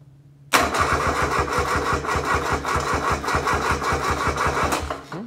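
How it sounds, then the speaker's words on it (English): Kubota D600 diesel engine swapped into a Case 220 tractor, starting while still somewhat cold: it cranks and catches after a half-second pause, then runs with a steady, loud, rhythmic clatter before cutting off at the end. "This isn't going to be full cold start because I accidentally did this video a second ago and I wasn't recording."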